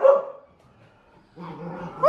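Puppies bark and yip in two close bursts, a short loud one at the start and a busier stretch near the end, with a quiet gap between.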